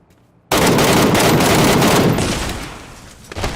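Rapid automatic gunfire from the PUBG video game, a dense burst of loud shots beginning abruptly and continuing steadily before tapering slightly near the end.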